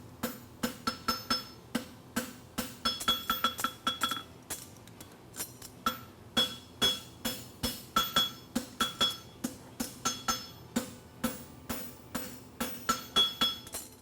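A blacksmith hammers a horseshoe caulk flat on an anvil, a steady run of sharp ringing metallic strikes in quick groups with short pauses, close and fairly loud, with no talking.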